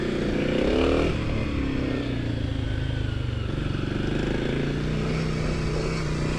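A 2024 Kawasaki KLX 300SM with a six-speed manual gearbox is ridden on the road, its single-cylinder engine droning loud and close with a rev change near the start, then holding steady under rushing wind.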